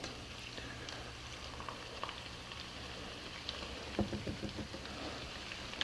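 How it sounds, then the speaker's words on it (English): Garlic chips sizzling and crackling in hot oil in a pan, a steady close hiss with a burst of sharper pops toward the end, no voices. "We're going to sprinkle in our garlic chips"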